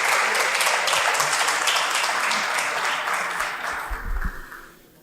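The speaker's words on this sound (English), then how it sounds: "Give them a hand of applause" A seated audience at a leadership session gives two volunteers a dense round of applause, many hands clapping at once, holding steady before thinning out and fading near the end.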